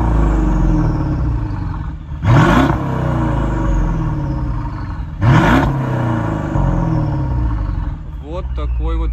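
Mercedes-Benz S550 W222 with 4.6-litre biturbo V8 and adjustable exhaust, flaps open, idling loudly then revving in two sharp blips a few seconds apart, deep rumble throughout, brief talk near the end.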